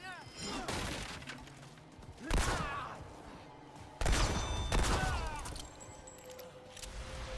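Gunfire erupts in the game Remnant II as bursts of loud shots and crashing impacts, with two strong volleys standing out amid chaotic combat noise.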